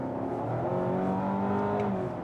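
A 2023 Mazda CX-60 hybrid accelerates under full throttle, its engine droning steadily and rising slightly in pitch, heard from inside the cabin at moderate loudness without talk.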